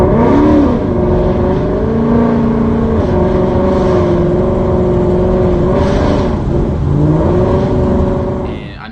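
A car engine revs hard and loud, held around 5,000–6,000 RPM while struggling to get moving, its pitch wavering up and down continuously for the whole stretch before easing off at the end.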